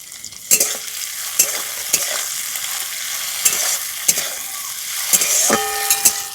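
Shrimp fry in a hot pan with a steady sizzle, broken by sharp clacks and scrapes of a spatula stirring them at irregular intervals, close up.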